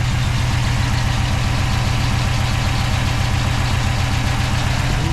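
A 1956 Ford F100 pickup with ram horn exhaust manifolds idles steadily nearby after a cold start, a low, even rumble with a faint knocking pulse and no voices over it.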